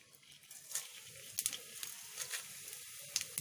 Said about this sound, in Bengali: প্রথমে আমি শুকনো লঙ্কা ও জিরে ফোড়ন দেব।